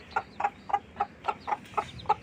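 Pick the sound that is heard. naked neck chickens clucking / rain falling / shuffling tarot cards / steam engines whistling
naked neck chickens clucking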